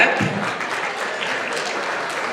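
Audience at a mental health awareness fundraiser clapping, steady dense applause of moderate loudness across the short stretch, with faint voices underneath.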